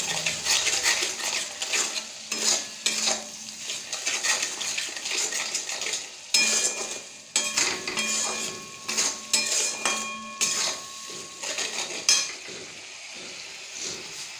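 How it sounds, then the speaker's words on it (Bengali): Prawn curry with spices stirred in a pan, giving repeated scraping and clinking of a utensil against metal in an irregular rhythm over a quiet sizzle, close and fairly loud, with no speech. "এবার এটাকে আমি মিক্সড করে নেব"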